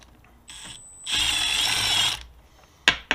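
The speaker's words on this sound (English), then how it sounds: "Now I'm going to drill this hole." A power drill bores a hole in a Jeep Cherokee XJ while fitting an auxiliary switch, with a short whir, then a loud steady grinding buzz lasting about a second, and a sharp click at the end.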